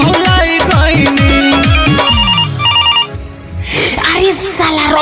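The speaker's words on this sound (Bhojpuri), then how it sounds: "देख तो रे है मोबाइल कौना के बाजता घरिया मेरे" A mobile phone ringtone plays loudly as a bright, repeating electronic melody inside a busy stretch of music, with a voice singing or talking over it.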